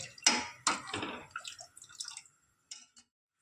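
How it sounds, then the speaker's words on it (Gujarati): Potato water poured into ragda, a few close splashing pours and drips that fade out, followed by two brief faint drips. "આ બટેકાનું થોડુંક આ પાણી નાખી દઈએ"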